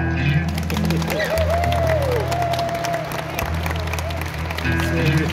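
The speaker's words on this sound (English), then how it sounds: "you can hear the round of applause going on" A large indoor audience gives a sustained round of applause with cheering at a centenary celebration in Mississauga, loud and dense throughout, with voices mixed into the crowd noise.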